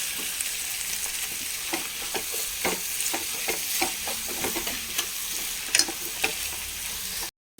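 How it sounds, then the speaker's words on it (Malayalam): Garlic-ginger paste frying in a mix of ghee and coconut oil with sautéed onion, a constant sizzle broken by repeated close scrapes and clicks of a spoon stirring the pan. "വെളുത്തുള്ളി ഇഞ്ചി പേസ്റ്റ് ചേർക്കാം. വാടി അതിൻ്റെ പച്ചമണം പോട്ടെ."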